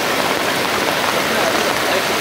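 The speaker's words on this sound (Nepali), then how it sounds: "यो ठाउँ अलिकति सङ्लो पानी बगिरहेको छ, लोभलाग्दो पानी छ" Clear water runs at the spring source of the Bhalu Khola stream, a close, steady rushing flow with no break.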